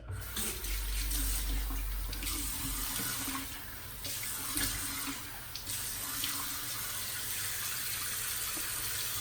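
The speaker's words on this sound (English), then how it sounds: "I'm gonna put some water on my face" A bathroom tap runs water into a sink before a shave, a steady close rushing stream with brief surges and dips as hands move through the flow, no speech over it.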